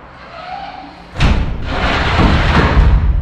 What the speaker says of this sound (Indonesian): pintu yang ada di belakang Dennis tertutup dengan sendirinya